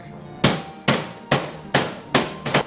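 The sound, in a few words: pounding pork tenderloin with meat hammer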